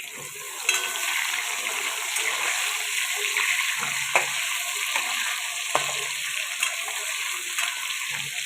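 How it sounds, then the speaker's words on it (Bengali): Papaya and potato pieces frying in hot oil, a loud steady hiss close by with occasional spatula scrapes and soft knocks, and no voices. "এবার তেল গরম হয়ে গেছে, ছেড়ে দেব পেঁপে আর আলুগুলো ভালোভাবে ভেজে নেব।"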